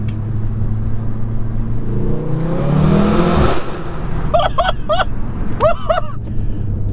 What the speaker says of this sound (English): That DSG fart was mega! That was like a gun going off.